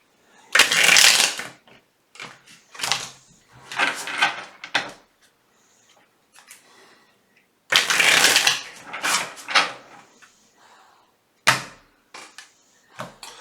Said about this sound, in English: Let's see what the hidden truth card has to say.